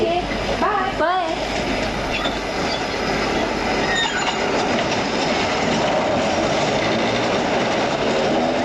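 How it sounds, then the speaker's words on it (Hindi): A tram rolls in on rails through a city street, its wheels clacking and squealing steadily for the whole stretch, with brief voices talking at the start. "अरे आरती, लो तुम्हारी ट्राम आ गई।"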